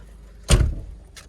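A single car door shuts with a solid thump, close by, followed by a faint click; no talking is heard.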